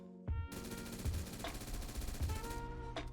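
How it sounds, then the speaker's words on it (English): M416 rifle firing full auto in the Roblox game Flashpoint, a loud continuous stream of rapid shots with heavy low thumps and a couple of short pauses, close and dominant with no talk. "Here's a look at the recoil in full auto for this."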